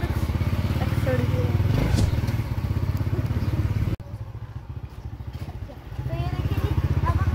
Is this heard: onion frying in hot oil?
no